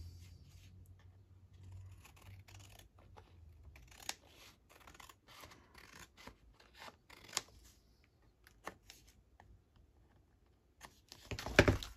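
Scissors cutting paper for a journal art project, a series of faint, quiet snips and crisp clicks spread unevenly across the span, closing with a louder rustle of handled paper.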